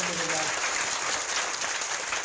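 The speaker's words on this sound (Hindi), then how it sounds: "इसलिए हम के लिए भी ताली जोड़" An audience at a Bhagwat katha religious discourse in Bangalore claps in sustained, dense applause that stays loud and even throughout.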